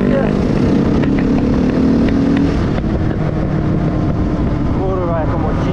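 A KTM EXC450 enduro motorcycle engine revs hard toward the rev limiter on a road, a loud, continuous, buzzing roar close by that holds steady with slight wavering pitch, with voices talking over it.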